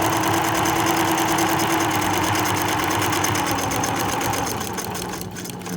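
A sewing machine stitches a t-shirt dress in a steady, fast mechanical whir with a continuous rapid stitching rhythm, loud and close, easing slightly near the end with no talk.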